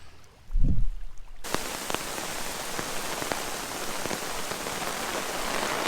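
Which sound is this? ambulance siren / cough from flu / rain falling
rain falling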